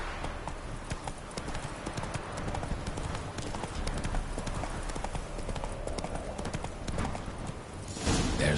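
Roach, the horse in The Witcher 3: Wild Hunt, gallops with rapid, even hoofbeats that run close and steady throughout, with a brief shift in the surroundings near the end.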